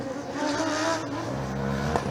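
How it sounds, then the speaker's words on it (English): Race car starter motor cranking during an endurance session at Formula Student Germany, a steady whirring drone with engine-like harmonic bands under track ambience, with no clear firing. "Can hear the starting motor."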